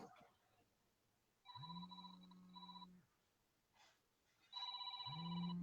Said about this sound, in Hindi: मुझे लगता है कि फिर किसी का फोन आ गया है